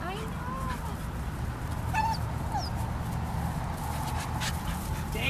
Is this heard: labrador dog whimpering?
yes